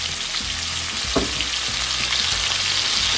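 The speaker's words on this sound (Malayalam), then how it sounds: "അപ്പോൾ അതേ ഓയിലിലേക്ക് നമുക്ക് നേരത്തെ കട്ട് ചെയ്ത് വെച്ചിരിക്കുന്ന പൈനാപ്പിൾ ഇട്ട് കൊടുക്കാം." Pineapple pieces frying in chicken-flavoured oil for a pineapple chicken stew, giving a steady, loud, close sizzle that holds evenly throughout with no voices.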